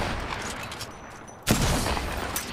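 Gunfire in a video game, a rapid burst of shots that erupts suddenly about halfway through and keeps rattling, loud and close after a quieter stretch of background noise.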